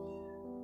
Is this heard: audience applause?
no